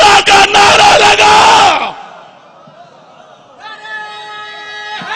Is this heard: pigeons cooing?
no